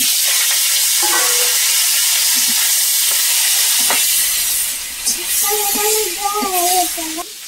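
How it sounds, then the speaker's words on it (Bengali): Steady hot-oil sizzle and hiss as fish fries in a kadai, loud and constant, with a voice speaking over it in the second half. "কড়াটা গরম হয়ে গেছে, মাছগুলো দিয়ে দেবো।"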